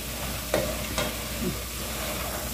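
Homemade ground beef being stirred and fried in a pan, with a steady soft sizzle and a couple of sharp scraping knocks of the spoon against the pan, close and without talk.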